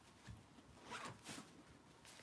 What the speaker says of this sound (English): That's a zipper right there in the middle.